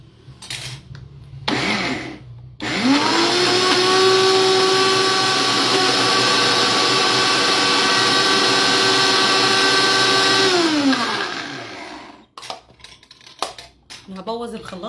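A kitchen blender grinding nuts kicks in abruptly and holds a loud, steady, high-pitched whir for about nine seconds before winding down, with brief clatter and faint sounds around it.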